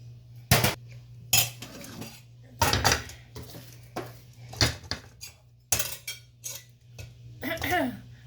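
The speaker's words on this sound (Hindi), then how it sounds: "अब मैं इसको डिश आउट करने लगी।" Cooked mixed-vegetable bhujia being dished out, with a series of close metal clinks and scrapes of utensils against a pan and plate at irregular intervals over a faint low hum, no speech.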